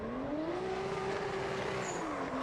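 A turbo BMW-powered Mazda RX8 race car engine bounces against its rev limiter, a sustained buzzing tone that holds then dips, heard at moderate distance with a faint rushing background.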